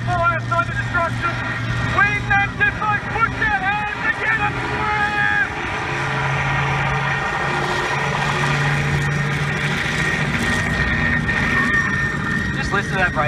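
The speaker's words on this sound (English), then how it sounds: "That's just idling. All that forward motion is from that jet engine." A jet boat sits with its jet engine idling on the water at Bundaberg, giving a low, steady droning hum beneath people talking nearby.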